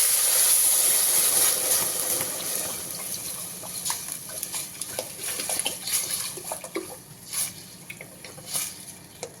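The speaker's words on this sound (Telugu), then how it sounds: "ఇప్పుడు అలాగే మజ్జిగ వేసుకుందాం" Buttermilk is poured into browned lamb in a pan, starting as a soft, continuous watery hiss that breaks into a series of faint, irregular splashes and bubbling pops.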